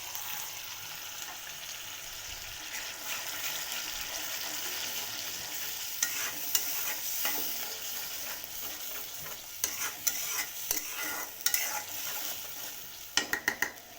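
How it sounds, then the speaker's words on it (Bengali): Salt, turmeric and chili powder sizzle in a pan for mustard hilsa curry, a continuous fry hiss that gives way to rapid clinks and scrapes of a utensil near the end. "তো এগুলোকে আমি একটু ভালো করে কষাবো"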